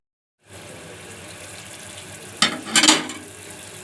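Masala frying with yogurt in a pan on a medium flame, a steady close sizzle that swells into louder bursts of spluttering and stirring toward the end.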